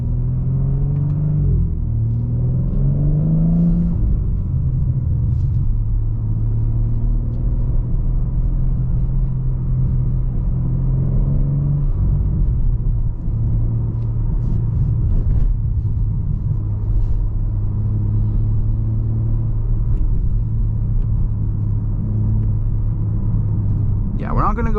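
A 2022 BMW M4 Competition coupe with an M Sport transmission drives on the road, its engine holding a steady, loud low rumble with brief rises in revs, while someone talks over it throughout.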